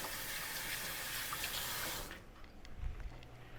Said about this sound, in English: I'm gonna kind of rinse my hand real quick